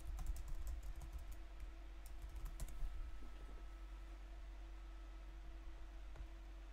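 Quick taps on a computer keyboard, faint and brief, come in a short burst at the start over a steady electrical hum and background hiss before falling quiet.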